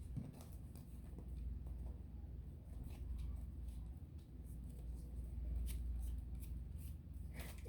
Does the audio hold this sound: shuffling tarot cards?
yes